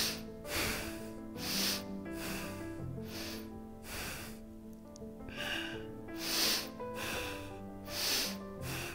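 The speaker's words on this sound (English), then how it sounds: "Couple more breaths." Deep, slow breathing during a morning yoga flow, with repeated audible inhales and exhales in an even rhythm, close and moderately loud with no talk.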